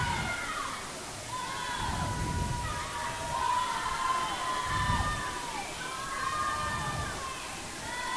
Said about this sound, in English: They've got their teammates cheering them on at the far end.